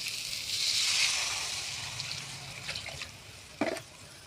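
Water is poured into a cooking pot for a potato, drumstick and fish curry, a close, rushing hiss that swells and fades, followed by a short splash near the end.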